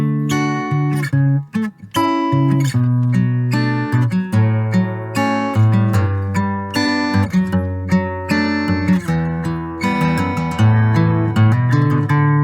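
Acoustic guitar in a worship song arrangement, played solo with plucked and strummed notes and a moving bass line, bright and close, with rhythmic attacks throughout and no voices.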